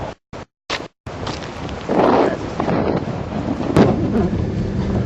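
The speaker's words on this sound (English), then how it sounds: "Wind picking up. Wind starting to increase," Strong storm wind during a Texas storm chase, gusting and buffeting the microphone in a rough, continuous roar after a few choppy opening bursts, with no voices over it.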